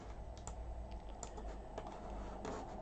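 Computer keyboard and mouse use while working in 3ds Max, a few soft scattered key taps and clicks over a steady low hum, faint and close.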